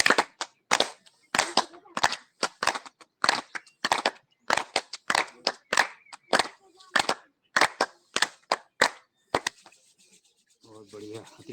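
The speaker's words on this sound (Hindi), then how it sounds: "और सभी जनों के लिए एक बार 15 बार ताली बजा लेते हैं।" A group at a yoga session claps in unison about fifteen times, each clap sharp and evenly spaced in a steady rhythm, then the clapping stops and a faint voice follows.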